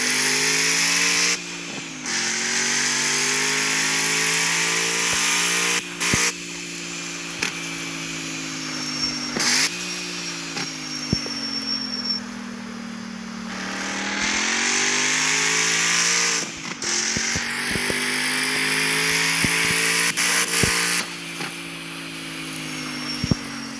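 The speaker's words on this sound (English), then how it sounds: "And they're pretty good at keeping the backfire realistic." A car engine in the video game CarX Street, fitted with an M177 twin turbo, revs hard and steadily, rising and falling in pitch, with sharp backfire cracks popping between the revs.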